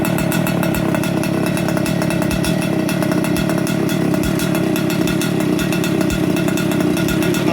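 A vintage 113 cc big-bore two-stroke kart engine with a 55mm piston and expansion pipe revs loud and steady close by, a raspy buzzing drone that never lets up.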